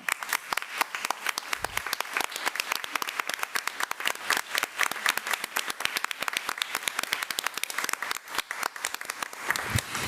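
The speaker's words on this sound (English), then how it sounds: "I would like to ask the audience to give them a round of applause." Applause at a school board meeting honoring teachers and staff: a room of people clapping steadily for about ten seconds, crisp individual claps clearly audible, with no talk over it.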